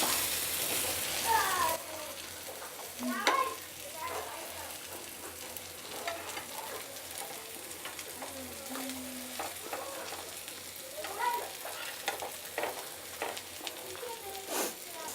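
Peshawari chapli kabab frying in a pan sizzles softly. Scattered clinks and scrapes follow as it is flipped, with a voice talking intermittently over the cooking.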